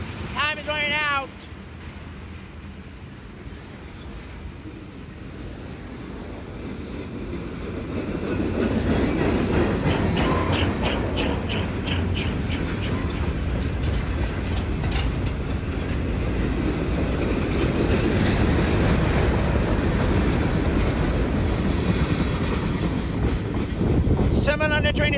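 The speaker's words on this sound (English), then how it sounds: "Summon on the train to see is XQ31619, eastbound mixed freight train." CSX eastbound mixed freight train rolling past, a steady rumble with clickety-clack of wheels that grows louder and continues, with brief high squeals at the start and end.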